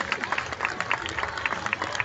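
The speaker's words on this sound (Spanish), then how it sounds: "Vamos a darles un aplauso para que se animen." An audience at a Christmas rock show in an amusement park claps for a couple, with bright, uneven hand claps and crowd noise over a few seconds, fairly close and lively.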